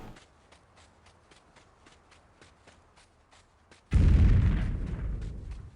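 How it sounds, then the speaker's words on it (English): A grenade bursts in the shooter game Delta Force Land Warrior: a loud low blast that hits sharply and rolls off slowly, following a stretch of quiet, regular footsteps. "Have a grenade."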